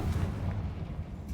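Confringo explosive spell from Hogwarts Legacy, a deep booming blast with a rumbling low tail, loud and close, with no talking over it.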